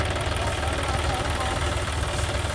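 A Mahindra tractor engine running with a mulcher attached drones steadily and loud, a close, constant low rumble with a knocking texture throughout the short stretch.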